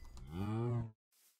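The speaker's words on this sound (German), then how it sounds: "Oh, noch eine Kuh. Hallo, du dumme Kuh." One loud, low moo from a cow in modded Minecraft survival, close and drawn out for nearly a second before cutting off, with a faint rustle after and no speech.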